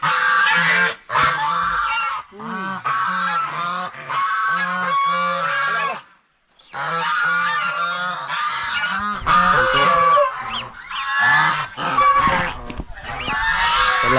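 Loud, repeated goose honking from several birds close by, in noisy overlapping bursts with one brief pause.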